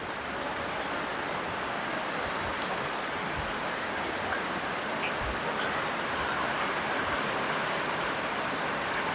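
Steady heavy rain hisses down in a dense, even wash, with occasional louder drops and low thumps, no voices heard.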